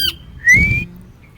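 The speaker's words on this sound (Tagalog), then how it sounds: "yung huni ng ibon" A single bird gives a short rising call followed by a sustained whistled note, close and clear against a quiet background.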